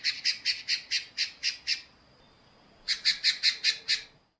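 A pale-breasted thrush in a rural setting gives two fast series of harsh, squawking notes, about seven in the first and six in the second, separated by a short pause, clear and close.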